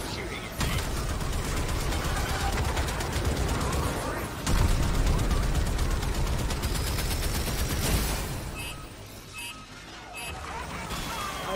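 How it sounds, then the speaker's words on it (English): Gunfire from a space-combat video game crackles in sustained rapid bursts, loud and continuous for several seconds before thinning out, with mechanical clanks and occasional speech mixed in. "I'll just keep shooting at things."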